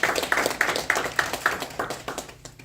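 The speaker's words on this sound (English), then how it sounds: "everyone, give a round of applause" Applause at a community safety talk, heard as a short burst of crisp, regularly spaced claps close by that quickly thin out and fade within a couple of seconds.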